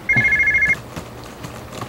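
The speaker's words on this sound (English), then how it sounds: "Hey, John, can you get the phone" An indoor telephone rings in one electronic trill burst, loud and close, then stops. Quiet room tone and faint soft knocks follow.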